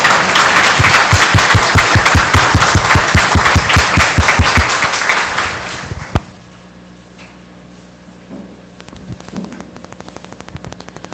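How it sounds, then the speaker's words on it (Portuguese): Strong applause welcoming a preacher at a church event: a loud, dense burst of many hands clapping in fast rhythmic waves for about six seconds, then cutting off to a quiet room with faint scattered noises. "Recebamos nosso Fábio com uma salva de palmas bem forte."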